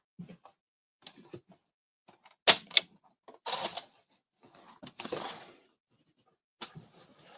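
Paper being cut about an inch for a handmade holiday card, a few sharp snips and rustles spaced apart with quiet gaps between them, close and fairly soft.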